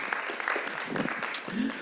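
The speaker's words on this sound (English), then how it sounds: "Let's give her a round of applause there." A crowd claps steadily for a couple of seconds, with voices talking over the applause.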